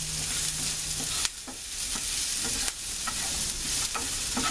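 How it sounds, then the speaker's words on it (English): Garlic and onion sauté in a pot with a loud, continuous sizzle, marked by a couple of sharp clacks and scrapes as a utensil stirs them. "Alright, we're just going to let this saute up"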